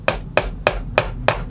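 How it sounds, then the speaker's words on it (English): A small tack hammer taps a little nail for a picture-frame hanger, five evenly spaced, sharp close metallic strikes with no talking. "I like to use a little tack hammer and a pair of needle nose pliers, the pliers to hold the little nail."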